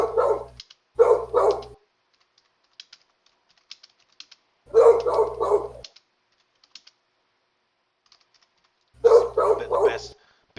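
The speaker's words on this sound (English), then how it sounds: "Like the dog's barking." A dog barks in three loud bursts of two or three quick barks, with long quiet gaps between them and soft keyboard typing in the background.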